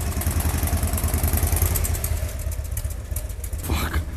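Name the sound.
Harley-Davidson Sportster 1992 motorcycle engine idling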